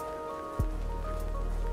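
Heavily contaminated rain falling in the video game Endzone - A World Apart, a steady wash of rain noise beneath a soft in-game music drone, beginning with a low thump.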